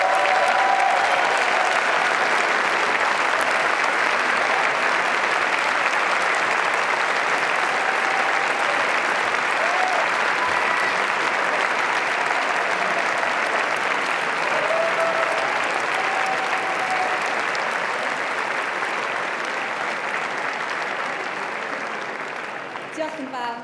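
Graduates at a Cardiff University graduation ceremony give their families and friends a loud, sustained round of applause, thick continuous clapping filling the hall and easing off slightly at the very end.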